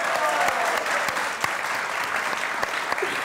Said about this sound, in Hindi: इनके लिए वाकई तालियां।